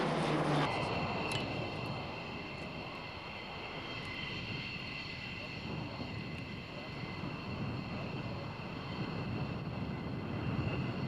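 An RAF C-130 Hercules flies at the 1997 RAF Mildenhall Air Fete airshow, a steady, fairly faint turboprop drone heard from a distance, with a voice speaking over it.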